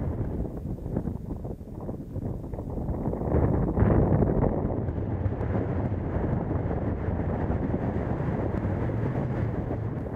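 Constant wind blows over a dune in the Serengeti, Tanzania, a steady loud roaring rush with gusty buffeting against the microphone that swells midway and stays strong to the end.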